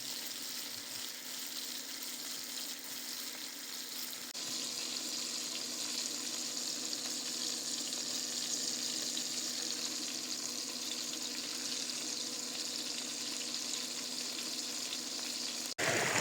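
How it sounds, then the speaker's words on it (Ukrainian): Steady, loud sizzling of flounder and goby frying in hot vegetable oil, coated in corn and wheat flour, a constant crackling hiss that grows slightly louder partway through. "Смажу я на звичайній рослинній олії"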